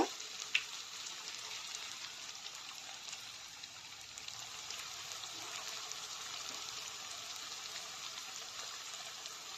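Corn vadas (fritters) frying in hot oil, a steady broad hiss of sizzling with fine crackle throughout, moderately quiet and close, with no talking.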